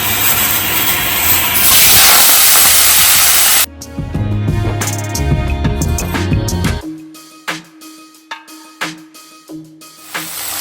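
Garlic hits hot oil with a loud, bright sizzling hiss lasting a few seconds, then the spitting fades into scattered kitchen clatter and knocks.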